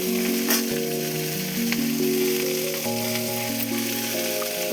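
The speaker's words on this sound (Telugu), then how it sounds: "ఇవన్నీ అయితే ఫ్రై అయ్యేసి వేపుకోవాలి." Cumin and spices crackle and sizzle in hot oil with a loud, constant frying hiss, while a steady tonal hum runs underneath; nobody speaks.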